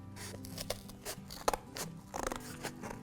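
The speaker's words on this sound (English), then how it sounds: "you can take your scissors and just cut along the line" Scissors cut along a drawn line in a paper camera craft, giving a close series of crisp snipping and crunching strokes in an uneven rhythm with no talking.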